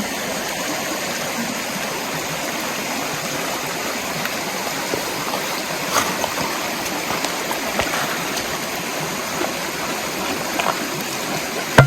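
An Appalachian Trail stream rushes and gurgles steadily over rocks, a constant close splashing flow with no voices.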